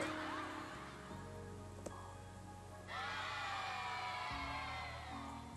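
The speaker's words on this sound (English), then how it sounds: "People cheering." A crowd cheering as a stock sound effect, whoops and shouts swelling partway through over a low, constant background hum, quiet overall.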